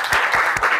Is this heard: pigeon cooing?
no